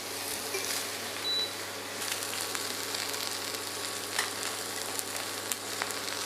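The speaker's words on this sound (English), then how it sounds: "So we fry the steak in a very hot pan." Strip loin steak frying in a very hot pan gives a steady, close sizzle with crackles and pops, alone without talk.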